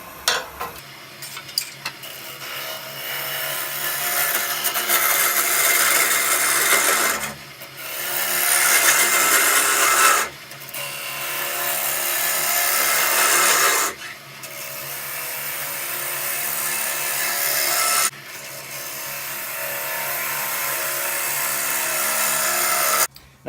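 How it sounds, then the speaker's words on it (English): A bigger bottom feeder bowl gouge cuts a natural-edge wooden bowl on a lathe, producing a steady, loud rasping hiss in long passes separated by short breaks as the tool is repositioned. "I'm going to switch to a bigger bottom feeder bowl gouge so I get a little bit more support with the tool"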